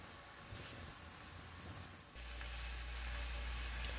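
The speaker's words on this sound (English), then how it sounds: "here you can see it's starting to boil" Wine sauce boils and reduces in a pan, giving a faint, steady sizzling bubble that turns fuller with a low rumble partway through, with no one talking.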